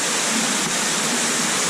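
Waterfall inside a river cave, a loud, steady rushing roar of falling water that fills the space evenly and close by, with no talk over it.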